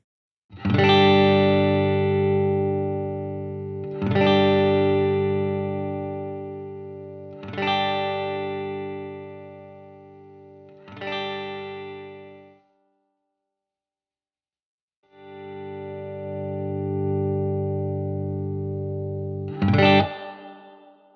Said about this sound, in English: All along now, you've been hearing different pickup combinations